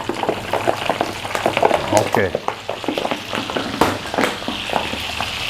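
Sliced shrimp frying in hot oil, a busy crackling sizzle with frequent sharp pops and stirring scrapes throughout, close up, with brief talk over it.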